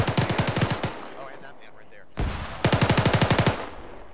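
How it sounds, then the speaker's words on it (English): Machine gun fire from a bunker in Arma 3 comes in two rapid, evenly paced bursts of about a dozen loud, close rounds each, separated by a short lull with distant rumble. "That is the machine gunner right there in that bunker."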